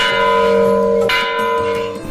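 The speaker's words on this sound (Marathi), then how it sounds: "द्वारावर भव्य पितळी घंटा बसवलेली आहे" A large brass temple bell at a temple gateway rings out with a sustained metallic tone, then is struck again about halfway through, its bright overtones shimmering and slowly decaying.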